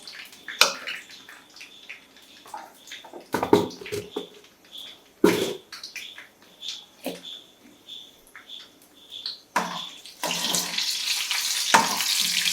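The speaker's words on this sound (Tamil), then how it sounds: "அந்த பூண்டையும் வெங்காயத்தையும் போட்டு ரொம்ப கறிக்கிடக்கூடாது" Garlic and onion crackle and sizzle in hot oil in uneven bursts, with occasional stirring, swelling into a steady loud sizzle near the end.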